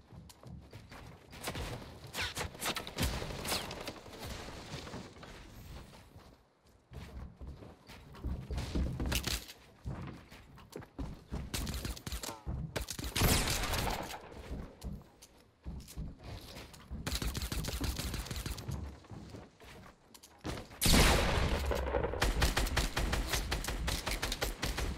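Dense game gunfire from a Fortnite match, rapid bursts and shots in dense clusters with short pauses, loud and continuous across the whole stretch.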